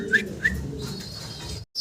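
Pigeons at a farm where high flyer birds are kept, with a couple of short bright calls early on over a steady low murmur of cooing and farm ambience, cutting to silence near the end.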